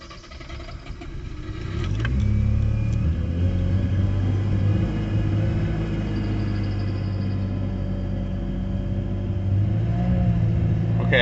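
A Mazda RX-7 FC3S turbo engine rumbles steadily while the gas pedal is feathered, rising after a quiet start into a sustained, close mid-pitched drone with slight fluctuations in revs.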